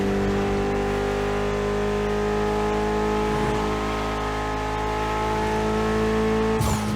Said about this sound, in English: Mitsubishi gave us a nice inline 4-cylinder with already 280 horsepower that are gonna turn up a bit.